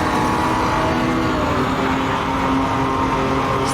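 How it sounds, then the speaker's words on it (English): A Puma GTB race car in the Automobilista 2 sim slows for a corner in second gear during an AI race. A loud, sustained engine drone with steady tonal whine continues without pause, and no voices are heard. "Braking down again for this corner. Second gear."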